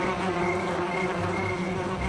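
A wasp drones with a steady, continuous buzz, close and fairly loud, holding an even insect hum for the whole stretch with no voices.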